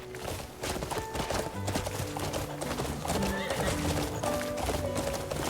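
A horse in the video game Crimson Desert gallops with rapid, steady clip-clop hoofbeats and neighs loudly, with music playing alongside throughout.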